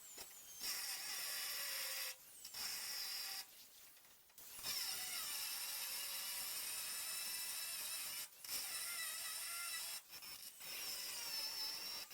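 A ratchet works loose the bed bolts on a 1972 Chevrolet C10 pickup, fast rapid clicking in long bursts broken by brief pauses, close and fairly quiet, with no speech.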